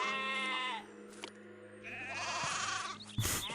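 Sheep bleat in a Zeus: Master of Olympus city-building game among pastures and carding sheds: two drawn-out, wavering bleats with a short pause between them, then a brief burst of noise, with no talk.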